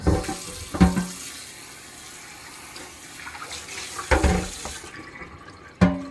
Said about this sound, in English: So we will give this a rinse out.